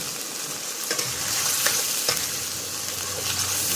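Pork, squid and bamboo shoots stir-frying in a hot pan, a loud continuous sizzle with occasional scraping stirs and clinks, close up and without speech.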